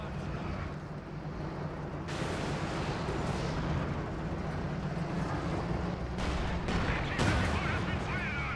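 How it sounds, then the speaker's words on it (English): An 88 gun in the Company of Heroes 2 World War II battle game fires amid a continuous rumbling battle din, with several sharp booming blasts standing out near the middle and end. "Ooh, that's a big gun. That's an 88."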